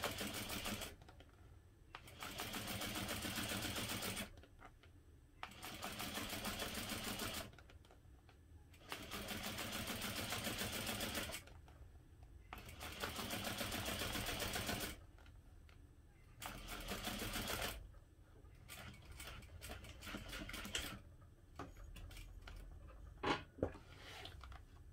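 A sewing machine stitches a quarter-inch side seam on a holiday armadillo fabric stocking, running in about five steady bursts separated by short pauses, then finishing with choppier short runs and a few clacks. It is close and alone, with no talking.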